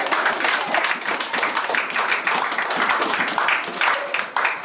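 A congregation at a church service claps and applauds in praise, a dense continuous wash of clapping with scattered voices and cheers mixed in, steady and fairly loud throughout.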